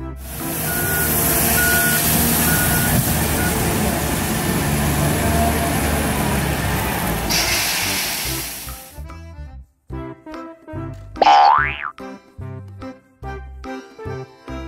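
A loud engine rumble from a toy loader vehicle runs for several seconds, then cuts to a series of sharp electronic reversing beeps with brief gaps and a rising whistle-like tone.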